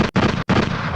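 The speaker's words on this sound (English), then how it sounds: "I got to get some gunshots." A gunshot sound effect played during a live stream: two loud, dense bursts of gunfire-like noise, the first broken by a short gap and a brief silence before the second, with no talk.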